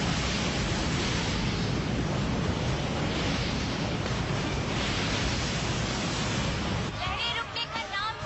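Cartoon ocean waves crash in a continuous roaring wash of broad noise, loud and unbroken for most of the stretch before thinning near the end, in a Shaktimaan animated movie.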